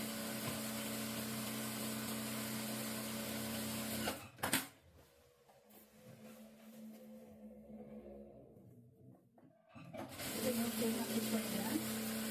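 A sewing machine stitching the lining of a saree runs in a steady, close mechanical whir, stops for several seconds of quieter handling sounds, then starts up again.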